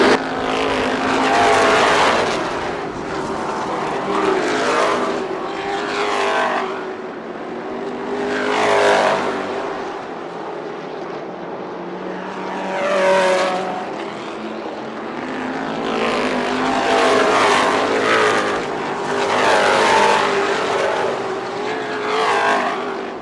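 Street stock race cars at Kalamazoo Speedway roar past in repeated loud waves, engines swelling and fading as the pack laps the oval, each pass rising to a peak before dropping away.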